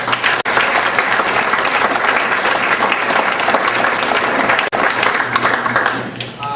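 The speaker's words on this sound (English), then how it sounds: "we can give another round of applause." Audience applause at a high school fall sports awards ceremony, loud and steady sustained clapping from a crowd lasting several seconds with two brief cutouts, fading slightly at the end.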